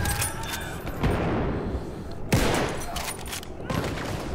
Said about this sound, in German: Oh, ich werd auch beschossen.